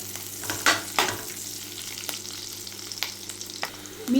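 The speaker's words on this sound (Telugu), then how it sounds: "ఇప్పుడు ఇందులో ఒక త్రీ పచ్చిమిర్చి వేసుకోండి ఒకసారి కలిపేసుకోండి" Green chillies frying in a pan as they are stirred, while a Telugu-style kaju paneer butter masala is made: a steady close sizzle broken by several soft spoon scrapes.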